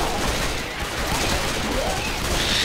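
Dense, overlapping gunfire fills a Left 4 Dead 2 versus match as a steady, noisy barrage with no distinct gaps, and faint voices are buried beneath it.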